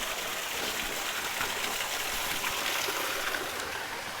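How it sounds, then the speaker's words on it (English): A small waterfall at Lady Charlotte's Cave near Dunkeld, Scotland, gives a soft, steady, hissing rush of falling water, faint and unbroken, with no voices. "Got a little waterfall there."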